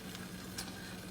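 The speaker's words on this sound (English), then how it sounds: "You hear the sizzle?" Faint, steady sizzling of an egg frying in butter in a hot pan, a soft crackling hiss throughout.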